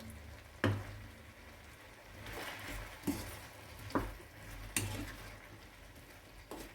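Apples cooking in a pan for an apple tart give a soft, steady sizzle and bubbling, broken by a few sharp clinks and scrapes as a spoon stirs them; no one talks.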